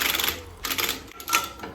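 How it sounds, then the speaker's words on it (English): An impact gun whirs in short rattling bursts while tightening the bolts on a new drive plate being fitted to a canal tug, with close, loud hammering pulses and brief pauses between bolts. "just going to whiz them up quick with this impact gun"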